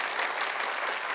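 A dense, steady burst of audience clapping for Team Poppy on a television comedy show, even and continuous throughout, with no voices over it.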